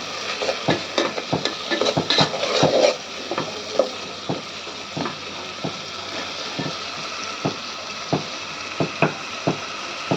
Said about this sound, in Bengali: এখন কষিয়ে নিচ্ছি ভালো করে